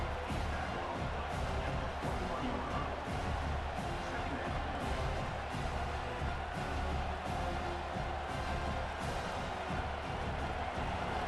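A stadium crowd in a college football video game, Kansas State Wildcats versus Utah Utes, roars in a steady, dense wall of cheering that runs the whole way through.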